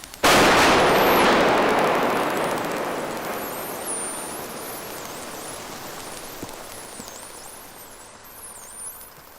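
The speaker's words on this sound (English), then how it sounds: "And this is the sound of a seismic explosion." A seismic explosion recorded underwater in an estuary hits as one sudden loud blast, then a long rumbling decay that fades slowly over several seconds, with faint high chirps above it.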